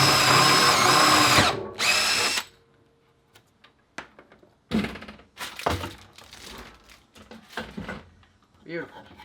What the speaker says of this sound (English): I'm gonna run the Forstner bit right through there.